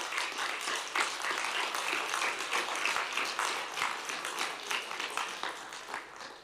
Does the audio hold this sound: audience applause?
yes